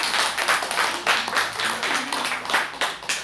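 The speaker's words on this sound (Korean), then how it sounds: "박수 한번 쳐야죠" Church congregation clapping during a Sunday testimony service, a close, loud run of rhythmic claps in regular pulses, with faint voices underneath.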